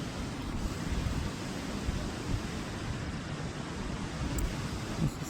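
Ocean waves wash onto the shore in a steady broadband roar that stays fairly loud and constant. Any spring peepers are lost in the surf and not clearly picked out.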